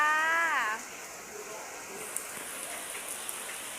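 Steady rain falls outdoors in a rural home setting as a soft, continuous hiss, faint and even throughout, with a brief voice at the very start.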